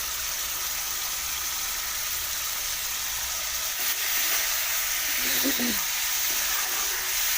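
Pork sizzles steadily in a hot pan with fried onions and turmeric, a continuous broadband frying hiss with a brief stir or scrape near the end; no talking.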